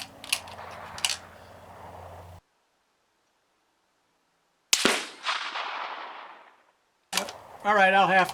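Sharp rifle reports from a scoped Swiss K31 at an outdoor range, one sudden crack with a decaying echo, another near the end, set apart by silence and some handling noise.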